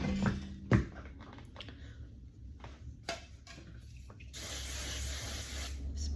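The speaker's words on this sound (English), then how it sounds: "Spray." A few soft clicks and taps, then a steady aerosol hair spray hisses for a couple of seconds at close range.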